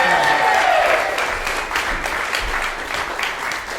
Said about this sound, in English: give Ben a big round of applause for that